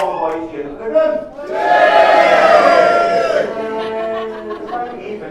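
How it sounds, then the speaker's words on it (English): Male wedding guests cheering for the groom at a reception, a burst of loud crowd shouting and whooping that swells, holds for about two seconds, then trails off into scattered voices. "And all the boys cheering for the groom."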